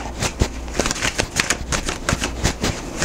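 Tarot cards being shuffled by hand, a rapid run of crisp riffling clicks and slaps close up, with no talking.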